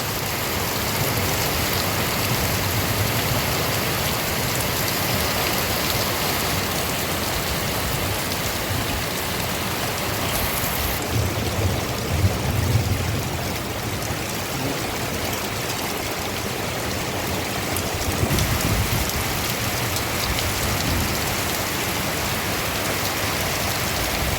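Heavy rain pours steadily in a village yard in Berezan, Kyiv region, a dense, constant hiss of water drumming on surfaces, close and loud with no letup.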